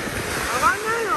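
Ocean waves wash onto a Japanese beach of volcanic sand as a steady broadband rush with light wind buffeting, heard briefly at close range.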